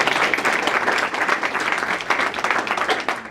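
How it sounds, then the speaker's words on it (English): Audience applause at a Sister Cities International 60th anniversary celebration in San Jose, a dense, steady round of clapping from a crowd that holds loud for the whole stretch without any speech. "we can still give her a round of applause for making the effort."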